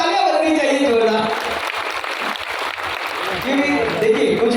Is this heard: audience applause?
yes